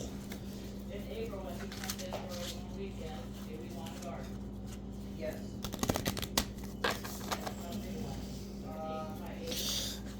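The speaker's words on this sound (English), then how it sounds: "I'm just going to start shuffling these together" Soft, rapid flicking and riffling of playing cards, mostly faint, with a louder burst of shuffling midway and a steady electrical hum underneath.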